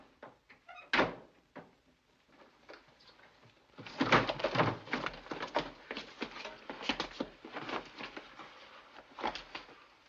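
Someone knocks on a door in a 1948 film-noir scene. A single sharp thump comes first, then a quick run of muffled raps and thuds continues for several seconds at moderate loudness.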